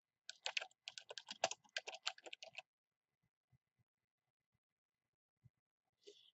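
Quick keystrokes clatter on a computer keyboard in a brisk burst of typing, then a pause with a few isolated soft taps and a final click.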